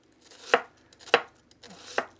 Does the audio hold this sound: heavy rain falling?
no